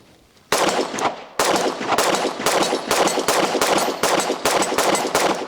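Rapid series of loud, close pistol shots from a Glock Gen 6 17 being fired after a reload, about a dozen sharp reports in quick succession with brief gaps, on a shooting range.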